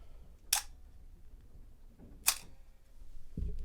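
A Canon FTb analogue SLR shutter set to bulb fires two crisp, close mechanical clicks about two seconds apart as it opens and then closes, with quiet between them and a low thump just after.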